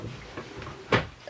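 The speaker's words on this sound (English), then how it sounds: "I had to shut the door." A single door thuds shut near the end of a short stretch of quiet room noise, one sharp knock after a few faint shuffles, with no one talking.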